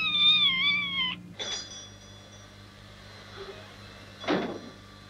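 A single drawn-out cat meow up close in a 1979 Italian crime film scene, followed by quiet room noise and a brief rustling knock.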